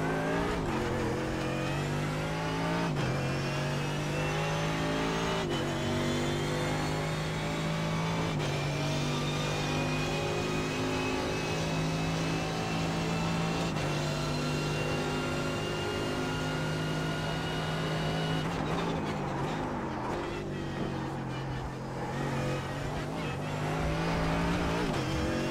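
A GT3 race car lapping Monza in iRacing, its engine droning loud and steady through long revving pulls, each gear change marked by a sharp pitch drop, continuous with no talk.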